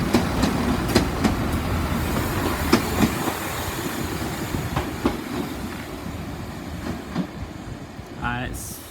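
A Class 166 diesel train at St Denys station rolls past in a steady, loud rumble with regular clickety-clack wheel beats, and a brief squeal near the end.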